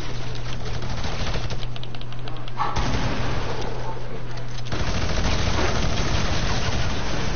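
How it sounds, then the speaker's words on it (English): Rapid, sustained minigun fire from a video game, a dense rattling burst that keeps going through most of the stretch with voices talking over it. "This dude got minigun."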